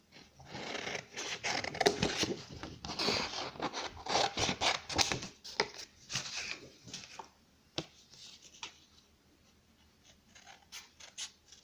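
Scissors snip through paper to cut out a homemade Christmas ball shape, with a rapid series of close crisp cuts and rustles that thin out into sparse clicks toward the end.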